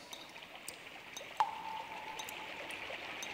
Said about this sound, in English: It sounds like water splashing.